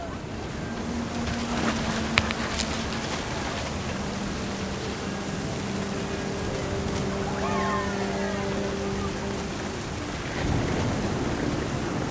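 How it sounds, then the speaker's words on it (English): In the video game What Remains of Edith Finch, steady rain hisses throughout while low thunder rumbles close by, with faint tonal sounds drifting over the storm. "The thunder sounded much too close and full of angry power."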